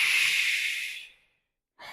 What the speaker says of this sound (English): One more, breathing out